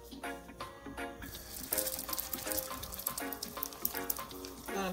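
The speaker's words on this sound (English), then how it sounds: "I'm gonna fry them until they're brown on each side" Salmon burger patties fry in a pan, giving a steady, soft crackling sizzle with quick popping spatters throughout, close and continuous.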